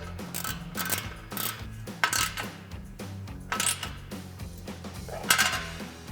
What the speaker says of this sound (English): tighten down our clip clamp bolt with our 13mm socket on our ratchet and a 13mm wrench